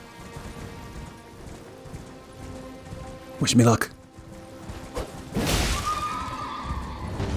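A horse in Elden Ring gives a sharp neigh midway, followed by a louder rush of movement and hoof sounds. Someone speaks briefly beforehand over a soft ambient backdrop.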